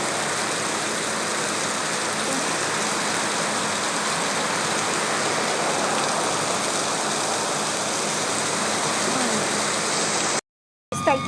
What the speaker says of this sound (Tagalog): Grabe lakas ng ulan, oh.